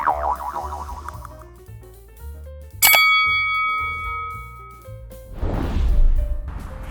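A notification bell ding sound effect rings out as a single bright metallic strike that sustains and fades, following a bouncy cartoonish musical jingle and followed by a whooshing swell.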